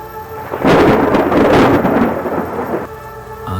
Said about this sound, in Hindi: तभी एक जोरदार बिजली चमकती है।